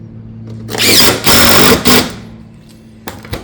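A power tool drives fasteners through Pine Crest shake roofing caps in two or three quick, loud whirring bursts at close range, followed by a couple of light knocks.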